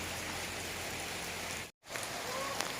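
Steady rain falls across a rural setting in Sakon Nakhon, Thailand, a dense, even hiss of drops on surfaces that runs continuously, broken only by a brief cut near the middle before resuming.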